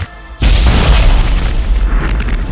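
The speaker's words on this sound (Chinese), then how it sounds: "士兵被炸得粉身碎骨" Hand grenade explodes in a horror film, a sudden loud deep boom that bursts in after a quiet moment and rumbles away with a long, heavy decay.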